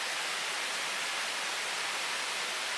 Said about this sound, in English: Get away from these noisy waterfalls even though they're gorgeous.